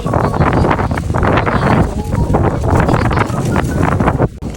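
Strong typhoon wind in Japan buffeting the microphone outdoors, a loud continuous roaring rumble with gusty surges throughout.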